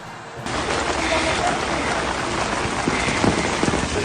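Hail pelting roofs, windows and parked vehicles during a storm in Bend, Oregon, a steady dense hiss of impacts that starts abruptly and keeps up without letting up, with a few sharper hits standing out.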